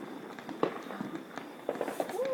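Neighborhood fireworks pop and crackle at a distance across a cul-de-sac, scattered sharp bangs followed by a rising whistle, with faint voices in the background.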